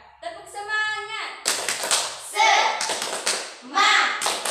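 Schoolchildren in an Indonesian classroom do the 'tepuk semangat' spirit clap. Sharp bursts of hand claps fall in a rhythmic pattern, mixed with chanted children's voices and a teacher's voice nearby.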